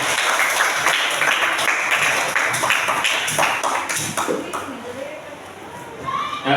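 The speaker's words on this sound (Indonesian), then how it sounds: "Tepuk tangan untuk semua kelompok." Classroom applause for all the student groups: dense, steady clapping from many hands fills the room at close range, tapering slightly toward the end, with voices audible underneath.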